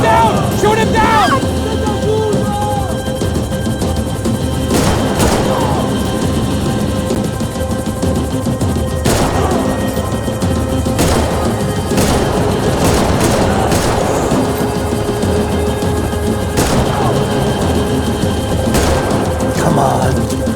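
Rapid bursts of gunfire crackle through a loud action chase scene, with engine and water-vehicle roar underneath and repeated sharp shots clustering every few seconds while voices shout over the din.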